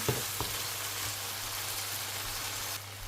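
Softened mung beans drop into a hot pan for Filipino ginataang monggo, setting off a steady, even sizzle after a couple of soft knocks at the start, continuous and moderately loud with no talk.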